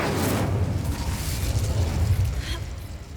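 An Incendio fire spell goes off in a wizarding action game as a roaring, crackling burst of flame with heavy low rumbling that holds for several seconds and tails off near the end.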